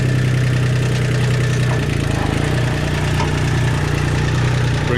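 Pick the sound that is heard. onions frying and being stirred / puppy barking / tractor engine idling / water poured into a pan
tractor engine idling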